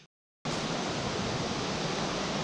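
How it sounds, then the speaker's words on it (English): A waterfall in the snowy Adirondack backcountry of New York gives a broad, steady rushing roar that begins abruptly after a brief silence and stays constant. "Nice waterfall up there."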